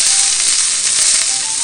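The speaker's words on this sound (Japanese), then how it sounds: "ピーマンと人参をどんと入れて炒めるよ" Green peppers and carrots hitting hot sesame oil in a frying pan, a loud, continuous close sizzle with faint stirring crackles and no voices.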